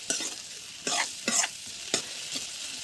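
Masala frying in oil for a Konkan-style crab curry, a steady sizzle broken by several sharp scraping stirs of the spoon in the pan, close and fairly loud, with no talking.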